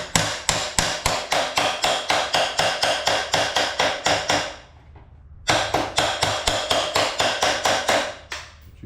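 A hammer repeatedly strikes thin sheet metal to flatten wrinkled spots, a fast steady series of loud, ringing metallic blows in two bursts separated by a brief pause, close up with no talking.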